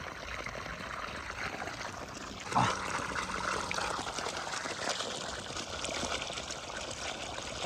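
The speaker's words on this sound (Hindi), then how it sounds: "तो ये आ गया अपना बोरवेल का पानी।" Borewell water pours out steadily on a farm, a continuous broad splashing flow that fills the whole stretch, with a brief louder gush partway through.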